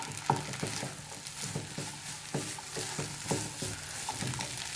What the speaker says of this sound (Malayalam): ഞാൻ ഈ ഗ്രീൻ പീസ് ചെറുതായിട്ടൊന്ന് ഉടച്ചെടുക്കുകയാണ്